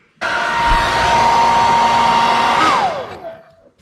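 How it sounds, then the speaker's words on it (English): A hair dryer warming rubber hoses on a Mercedes W124 switches on and blows steadily with a whirring hum, then its pitch drops as it shuts off. "heat up both the hoses and these mounts and everything rubber with a blow dryer"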